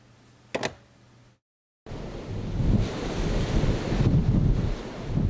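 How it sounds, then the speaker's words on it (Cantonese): Surge waves from Typhoon Ragasa crash against the shore off Heng Fa Chuen, Hong Kong, under a No. 8 gale signal. A loud, continuous roar of surf and gusting wind buffets the microphone after a brief quiet opening. "杏花村對出嘅海面唔再平靜，不時有湧浪拍打上岸邊"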